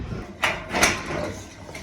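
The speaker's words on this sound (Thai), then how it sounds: "เดี๋ยวเปิดประตูแป๊บ" A door at home is opened, giving a couple of brief sliding, rattling scrapes close by, with faint room noise between them and no talk.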